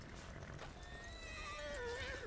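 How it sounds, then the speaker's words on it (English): An exhausted horse in a video game gives a brief whinny rising into a high neigh, close and clear over faint background noise. "your horse will be nearly really very exhausted, and you Yes. get off of your horses."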